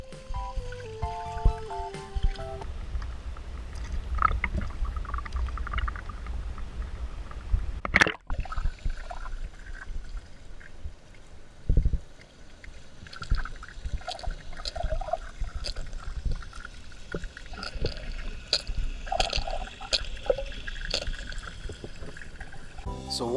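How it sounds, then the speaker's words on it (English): Underwater rattling from an Unfair Lure Shrimp fishing lure, heard through water near a kayak: a steady busy clatter of small clicks and ticks over a low watery rumble, with a sharp knock around the eighth second. "a kind of a higher pitch rattle in this Unfair Lure Shrimp"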